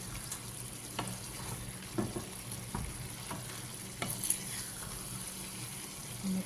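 Chicken liver with chili peppers sizzling in a pan, a quiet steady frying hiss punctuated by occasional faint clicks of stirring, no talking.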